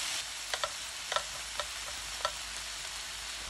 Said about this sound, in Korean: 양배추를 잘 볶아준 뒤에 중앙에 자리를 만들어줍니다